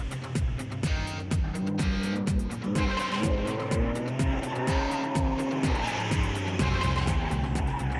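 Supercharged car producing 300 to 600 horsepower accelerating hard with tires squealing, engine note climbing through repeated gear changes, loud and close, continuous over the whole stretch without speech.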